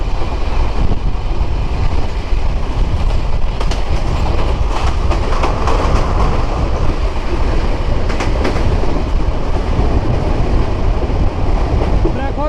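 Chilahati Express passenger train running steadily after leaving Saidpur, a continuous loud rumble of wheels and carriages with rhythmic clatter throughout, heard from on board.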